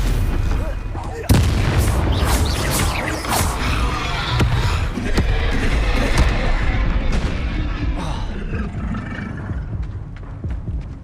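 Fiery Confringo spell blasts in the Hogwarts Legacy video game, a dense run of booming impacts and crackling bursts that keep going without a break, loud and up close, with sharp hits mixed into the battle noise.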